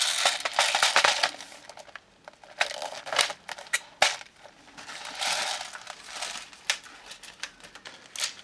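A CYMA CM028A high-capacity airsoft magazine has its bottom wheel wound, giving bursts of close, dry ratcheting clicks that stop and start with short pauses between.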